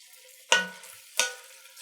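Drained kidney beans tipped into a pot of chili and stirred, two short, close scraping, sloshing spoon strokes about two-thirds of a second apart over quiet background, with no talking.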